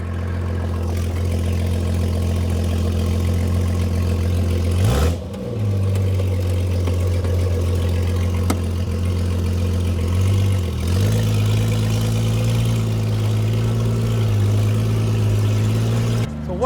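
A 1960s Triumph Vitesse engine fitted in a kit car idles loudly and steadily up close, with a deep throbbing hum and two brief blips of revving that settle back to idle.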